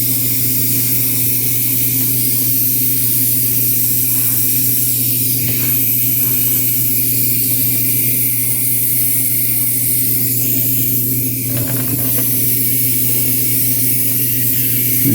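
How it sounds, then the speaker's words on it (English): A partly clogged airbrush sprays paint with a steady loud hiss over a constant compressor hum, the airflow sputtering and breaking up in short irregular bursts throughout. "I got some clogging my airbrush. Working its way through."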